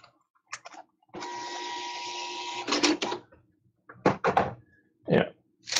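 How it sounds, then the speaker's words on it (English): Receipt printer printing: a steady, buzzing mechanical whir lasts about one and a half seconds, followed by a crisp tearing or cutting clatter and a few sharp clicks and knocks. "I have a receipt printer, and I can send this to my receipt printer."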